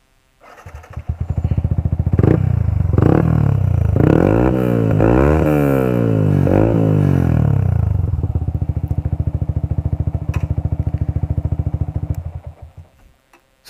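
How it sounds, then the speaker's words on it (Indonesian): A Yamaha All New Vixion R 2018 motorcycle with a Pro Speed aftermarket exhaust starts up and idles loudly and close, with a deep, rounded burble, is revved up and down several times, then settles back to idle before cutting off. "Gimana sih suara knalpot Pro Speed di motor Yamaha All New Vision R ini?"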